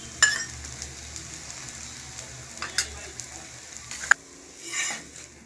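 An egg chapati, just flipped with oil added, fries on a pan with a faint steady hiss and a few scattered crackles and taps.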